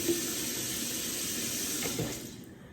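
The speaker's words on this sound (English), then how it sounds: "now I'm washing the straw. In the lid." A kitchen tap runs steadily as a drinking straw and cup lid are rinsed underneath, a close, continuous splashing stream that fades out near the end, with no speech.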